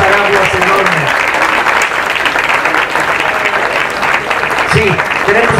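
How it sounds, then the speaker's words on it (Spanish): Loud audience applause at a talk on Mexican muralism welcomes an arriving guest, with dense continuous clapping throughout and a voice heard speaking over it near the start and again near the end. "Un aplauso para Armando Bartra"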